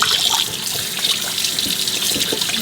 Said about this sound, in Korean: 씻어주겠습니다. 찬물에.